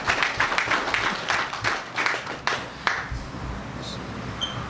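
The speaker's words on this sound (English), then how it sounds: "Can we give a round of applause?" Audience at a ceremony releasing jail inmates breaks into a round of applause, a dense crackle of clapping that tapers off after a few seconds, fairly distant and modest in level.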